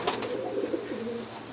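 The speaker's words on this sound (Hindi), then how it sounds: "ये 11 घंटा कुछ मिनट उड़ के आई है मुज़फ़्फ़र इकबाल भाई के पास" A pigeon's soft, close coo, a short rolling call over light background noise.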